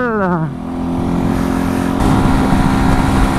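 A 125cc motorcycle engine runs loud and close, its pitch dropping then holding a steady rumbling drone with some wind noise.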